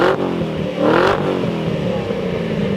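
Stock-exhaust Ford GT revving inside a parking garage, a loud, close engine roar with a sharp throttle blip near the start and a swelling rev around one second, echoing off the concrete.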